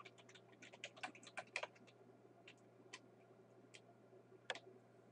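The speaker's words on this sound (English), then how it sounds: "Just type it up here on the formula bar and hit enter." Soft, quiet keystrokes tap on a computer keyboard while a spreadsheet is being edited, arriving in an irregular cluster of clicks followed by a few sparse isolated taps over a low steady hum.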